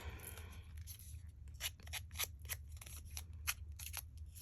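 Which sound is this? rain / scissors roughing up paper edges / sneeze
scissors roughing up paper edges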